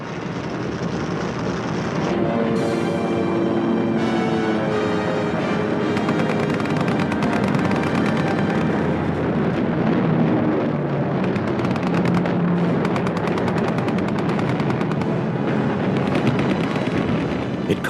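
Early-morning airstrike on Midway atoll during the Battle of Midway: dense, continuous gunfire and heavy explosions rumble for the whole stretch, loud and relentless, with layered bursts and booms but no clear voices.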